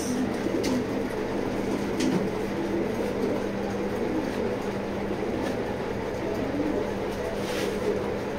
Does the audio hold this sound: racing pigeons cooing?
yes